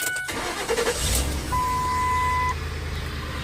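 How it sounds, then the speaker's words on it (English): A Ford all-wheel-drive vehicle's engine cranks briefly and catches, then settles into a steady close idle hum, with a faint tonal chime sounding partway through. "So let's go ahead and start the vehicle up here."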